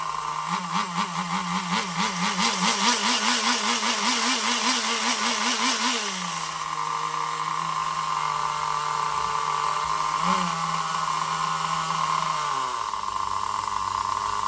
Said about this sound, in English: Oh, look at that idle. Why is it idling so nice?